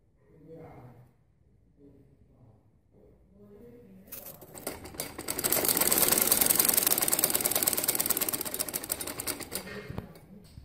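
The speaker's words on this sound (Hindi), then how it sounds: "कुंदे को मैं दूसरे पोंचे के साथ सिलाई करूंगी।" Sewing machine stitching sharara panels together, a steady rapid mechanical whirring that builds to a loud run and then continues, preceded by a quiet stretch with someone speaking Hindi.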